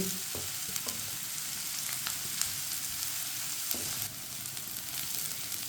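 Chopped onions sizzle and fry steadily in oil until lightly browned for a stuffed karela dish, a dense continuous crackle with occasional stirring scrapes and pops, close and fairly loud with no talking.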